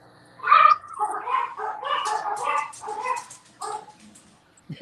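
A dog gives a string of short yips and whimpery barks, fairly close, with brief pauses between bursts.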